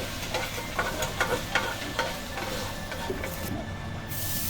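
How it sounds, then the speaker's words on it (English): Pork pieces fry in a hot pan for a dumpling filling, giving a steady, close sizzle with scattered clicks and scrapes of stirring throughout. "we're just gonna fry the pork until it's ready"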